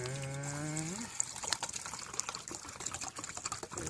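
Water runs from a tap into a cooking pot for potatoes, a steady splashing stream following a brief rising tone, fairly close and alone.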